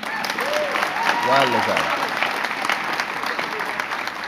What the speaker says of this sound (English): It was another round of applause, I think.